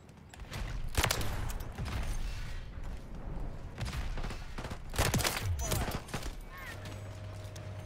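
RW1 pistol shots fire in a video game, several sharp loud cracks spaced apart amid mechanical clicks and background game noise.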